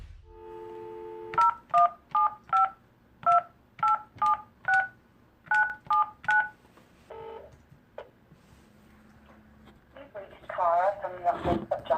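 Telephone keypad dialing an MP's office, a dial tone followed by eleven crisp dual-tone beeps in quick uneven groups, then faint ringing and a voice speaking at the end.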